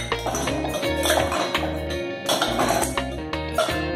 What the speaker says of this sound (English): In a cocktail shaker, take a few cubes of ice